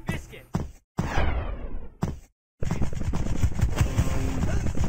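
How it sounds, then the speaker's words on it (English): Paintball markers firing in Greg Hastings Paintball, a rapid rattle of shots broken by brief silent gaps, then a steady stream of popping fire underneath a voice. "I'm hearing shots, guys."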